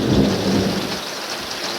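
A low rumble of thunder rolls and fades beneath the steady hiss of heavy rain falling on surfaces.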